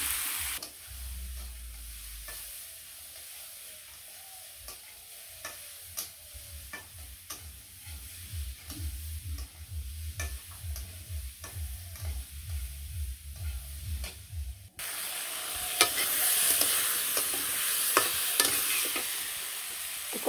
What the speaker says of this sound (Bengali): তারপর মাছগুলো ছেড়ে দিব।